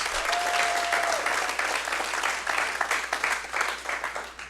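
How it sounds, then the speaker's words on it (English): A crowd applauds steadily, dense clapping filling the room throughout, fading slightly at the end. "let's give them all a round of applause."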